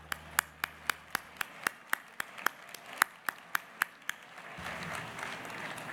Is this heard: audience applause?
yes